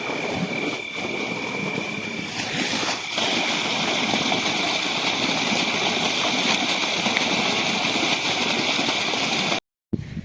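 Water rushing into a farm irrigation channel at a cumin field makes a continuous, fairly loud gushing and burbling that stays steady for about ten seconds before cutting out abruptly near the end.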